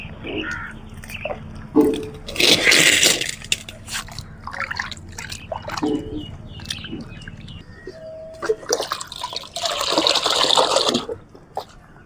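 Fenugreek water is poured from a container onto rose plants in a garden, giving two bursts of splashing, gurgling liquid. Crows caw nearby between the pours.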